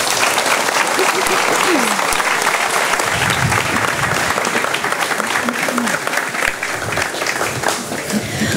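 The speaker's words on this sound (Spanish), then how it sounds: "Le cedemos la palabra con un fuerte aplauso, por favor." Crowd applause at a San Roque town festival before the festival's opening speech, a dense, loud burst of clapping sustained throughout, with faint voices mixed in.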